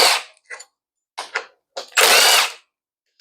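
Impact-style power tool removing 10 mm bolts from an old Honda engine on a Snapper mower, heard as several short buzzy bursts and then one longer, louder whir of about half a second, close and with no talk.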